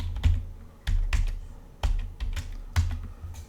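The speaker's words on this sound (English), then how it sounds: "And I'm going to type in maple." Computer keyboard typing in a quiet room, a handful of crisp, close key clicks arriving in short irregular bursts.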